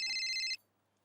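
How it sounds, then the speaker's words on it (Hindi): A telephone bell rings loudly for about half a second and then cuts off, leaving near silence. It is heard in a home setting in a Hindi comedy. "फोन आया"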